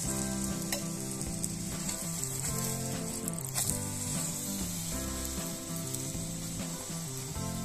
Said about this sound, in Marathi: आपण इकडच्या साईडला तूप लावून घेऊ